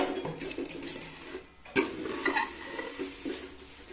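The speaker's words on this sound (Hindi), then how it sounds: "जब ये इनको घी में डालते हैं ना तो ये बड़ी फूली फूली लगती हैं, लेकिन फिर जब इनको ये फ्राई करते रहते हैं" Vermicelli fries in ghee with a spoon stirring through it, soft sizzling under scraping and clinking of utensil against the pan, fairly close and moderately quiet, with no talking.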